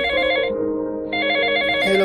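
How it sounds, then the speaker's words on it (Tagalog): A cellphone rings with a bright electronic tone in two bursts separated by a short gap, loud and close, with no talk over it. "nang biglang nag-ring ang kanyang cellphone"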